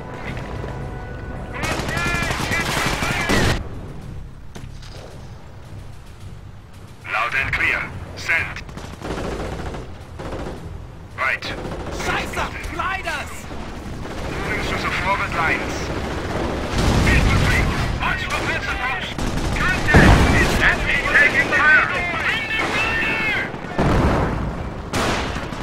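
Heavy battlefield gunfire and artillery fill a Company of Heroes Operation Market Garden fight, with loud overlapping bursts, rattling volleys and booming blasts building in intensity throughout, and voices speaking now and then under the din.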